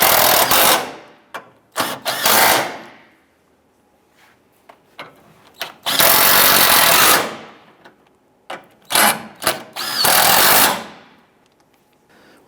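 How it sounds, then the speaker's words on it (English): A power tool driving the hood latch bolts on a 2002-2008 Dodge RAM during a radiator support replacement, running in loud, close bursts of a few seconds each, separated by short pauses and small clicks. "Tighten these bolts down."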